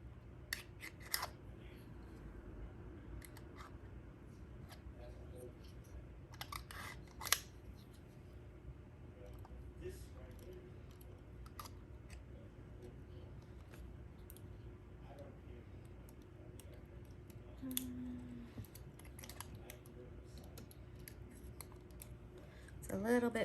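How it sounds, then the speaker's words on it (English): Scissors snipping tape at the center of a wooden cutting board being prepped for paint and epoxy resin: sparse, quiet clicking cuts scattered over a low steady hum, with occasional faint handling noises. "Now I'm going to cut the center here."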